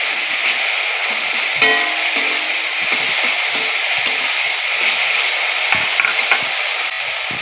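Tomato paste fries in a pan as green chillies ground with salt go in, giving a steady, fairly loud sizzle broken by sharp clicks and scrapes of stirring.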